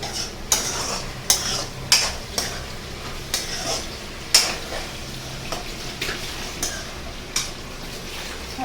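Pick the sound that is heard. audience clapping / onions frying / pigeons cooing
onions frying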